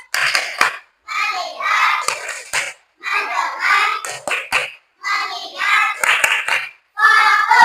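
A group of children in a classroom do focus clapping in short rhythmic bursts with pauses between them, their young voices chanting along, close and lively.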